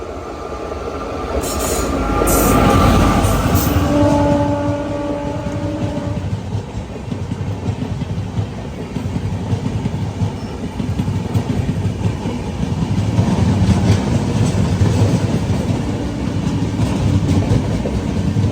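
A train rolls past on an adjacent track beside a stationary Mussoorie Express sleeper coach, with steady rumbling and clickety-clack wheel rhythm, high-pitched wheel squeals early on, and a continuous loud roar throughout.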